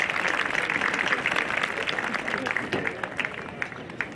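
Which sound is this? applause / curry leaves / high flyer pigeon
applause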